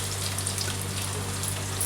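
Onions dropped into hot oil in a pan where garlic has been frying, making a steady, close, even sizzle and crackle with no break, for a Kundapura-style egg palya.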